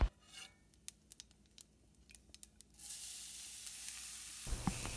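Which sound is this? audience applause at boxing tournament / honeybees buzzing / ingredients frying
ingredients frying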